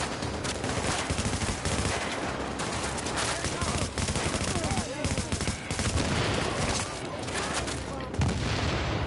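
Continuous heavy gunfire and turret shooting fill a Challenging Mode fight at the Lexington Event Center in Tom Clancy's The Division, with dense, loud, overlapping shots and no break from start to finish.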